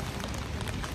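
Steady rain falls on a Prague street, a dense, even hiss of drops that stays constant and close throughout the short moment, with no voices.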